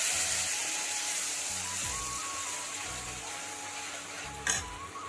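Ginger, garlic, onion and chili paste frying in a pan, a steady broadband sizzle throughout with low clatter of stirring and a sharp utensil knock near the end.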